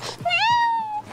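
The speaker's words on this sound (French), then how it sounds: "il y a le chat qui n'aime pas trop la voiture, qui fait miaou, et Nono, elle refait miaou" A cat riding in a car gives one clear, rising and drawn-out meow, close and loud, with faint voices around it.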